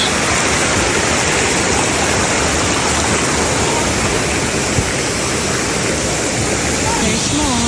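A waterfall in Siquijor roars steadily and loudly throughout, a dense unbroken rush of falling water close by with no pauses.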